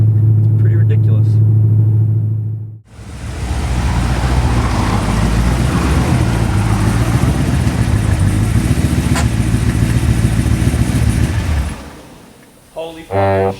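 A twin-turbo Corvette C6 Z06 making about 1,000 horsepower accelerates hard, a loud close engine roar that surges after a brief lull and holds for several seconds before cutting off.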